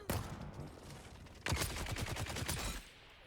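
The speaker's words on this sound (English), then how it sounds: "Now shoot that guy." Gunfire from the video game Dune: Awakening, a brief shot near the start followed by a louder burst of rapid shots, fairly close and alone without talk.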